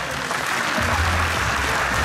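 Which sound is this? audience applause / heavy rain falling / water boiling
audience applause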